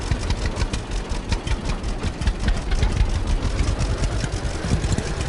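Tractor engine idling in the farming game Farmer's Dynasty, a steady low rumbling drone that holds constant and fairly loud throughout with no talk over it.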